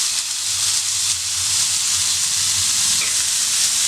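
Tandoori chicken tikka frying in oil on a dosa pan over a gas stove, a steady close sizzle with dense broadband crackle and hiss that holds evenly throughout, with faint low hum beneath.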